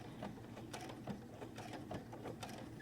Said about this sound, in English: I'm going to go backwards a few stitches to lock in the stitch